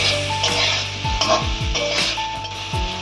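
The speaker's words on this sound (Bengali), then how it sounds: "ভালো করে মিশিয়ে নিয়ে বেগুনটা একটু হালকা করে ভেজে নেব।" Eggplant fries in a pan with turmeric and spices, a continuous sizzle broken by repeated scraping stirs of a spatula against the pan, close and loud.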